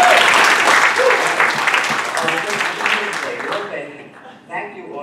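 A crowd at a progressive political forum breaks into sustained applause, dense and loud for several seconds before thinning and fading away.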